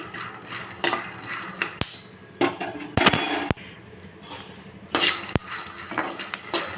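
Peanuts dry-roasting in a pan, stirred with a metal spoon: close, irregular scrapes and rattles punctuated by several sharp clinks of utensil against the pan, no voices.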